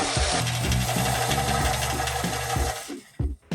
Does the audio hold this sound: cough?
no